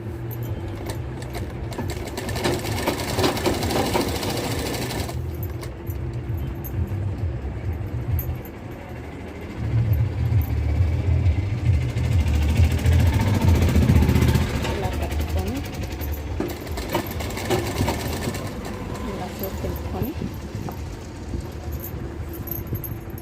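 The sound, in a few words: sewing machine stitching a Narayana silk half saree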